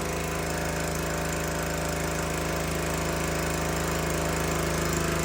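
A Predator Max 6.5 hp small engine idles steadily during break-in, with no load on the motor. It makes a loud, continuous buzzing drone that stays the same from start to finish.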